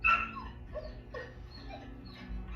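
A 10-month-old golden retriever whimpers and whines close by in short, high, wavering cries, several in a row with brief pauses between them, over a low indoor background hum.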